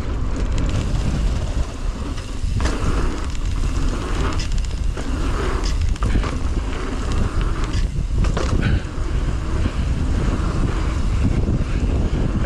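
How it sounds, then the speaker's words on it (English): Wind buffets the microphone while a rider mountain bikes into a light headwind, a steady broadband roar with gusty surges throughout and no talking. "There's a little headwind"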